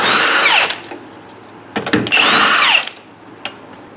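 A power tool spins out 13 mm sway bar bracket bolts on a C6 Corvette, two loud, close whirring bursts with a rising then falling pitch, separated by brief ratcheting clicks.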